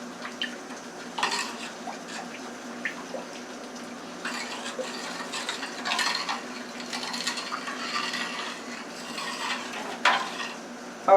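A spoon stirs garlic into rice in a pot, giving soft continuous scraping and a light sizzle up close, with a few brief louder scrapes.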